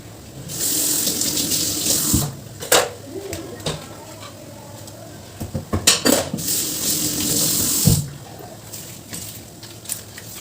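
Water from a kitchen tap runs into a sink while something is rinsed and scrubbed, with clinks of dishes and utensils and occasional knocks; a voice talks faintly underneath.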